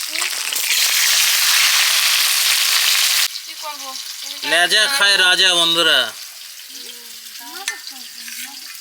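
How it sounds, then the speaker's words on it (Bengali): Loud, dense sizzling of taro frying in hot oil for about three seconds, then softer frying continues as a person talks over it. "তেল গরম হয়ে গেছে কচু দিয়ে দিচ্ছি"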